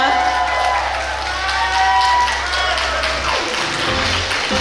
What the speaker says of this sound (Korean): 박수 한번 다시 한번 크게 부탁해드리겠습니다.